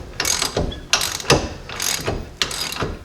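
Ratchet loosening the nut on a Jeep Dana 30/44 ball joint, its clicking pawl running in repeated bursts of rapid ticks with short pauses between strokes, close and fairly loud.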